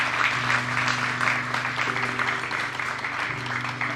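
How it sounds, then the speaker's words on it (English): A conference audience at an economic summit gives the panel guests a round of applause, many hands clapping steadily and fairly loud, with sustained low musical tones playing underneath throughout. "Let's have a round of applause for our guests today."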